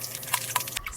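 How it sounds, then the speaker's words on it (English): Water drips and splashes as an oily toy bulldozer is washed, with several quick splashy hits over a steady wet background. "Splash. Wash away all that slippery oil."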